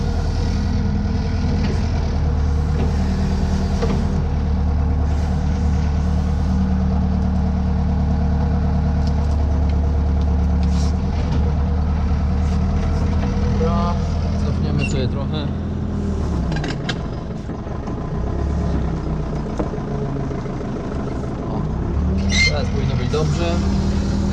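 A heavy diesel engine of an excavator standing unevenly on soft ground while clearing a willow-stump plot rumbles steadily nearby, with someone talking over it and occasional clanks.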